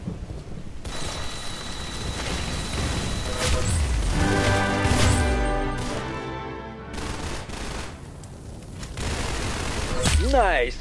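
Heavy gunfire in a shooting video game, with booming shots and rapid bursts layered over rumbling explosions and a voice talking, all loud and continuous throughout.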